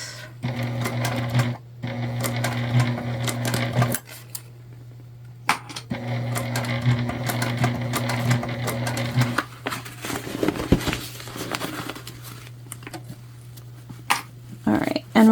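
Hand-crank sewing machine stitching a tote bag seam, a steady close mechanical whirring and ticking in two long bursts separated by brief pauses, followed by softer handling clicks and rustle toward the end.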